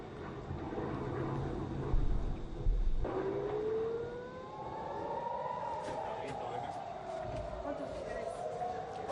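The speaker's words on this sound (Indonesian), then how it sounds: "sirene serangan udara berbunyi di Tel Aviv" An air raid siren in Tel Aviv wails with rising and falling tones over a noisy background, voices and commotion audible beneath it.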